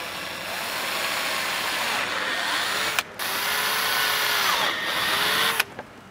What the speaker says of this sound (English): grab the six mil drill bit that you had before and very slowly drill through